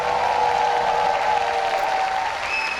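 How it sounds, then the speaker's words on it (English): Dense crowd applause and cheering fill the clip steadily at a StarCraft 2 HomeStory Cup semifinal as a player is introduced, a loud continuous wash of clapping with a few whistles near the end. "Give a big cheer for Liquid Taeja!"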